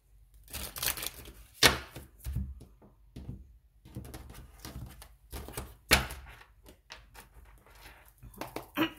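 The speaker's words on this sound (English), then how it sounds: "One more shuffle." A deck of tarot cards is shuffled by hand, giving soft, quiet bursts of papery riffling and light taps in an irregular rhythm, close by.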